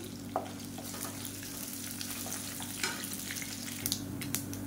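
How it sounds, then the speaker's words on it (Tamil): Mustard seeds and chana dal fry in hot oil for a South Indian tempering, a close, steady sizzle broken by scattered sharp pops and crackles, with no voices. "கடுகு கடலைப்பருப்பு எல்லாம் புரியுது"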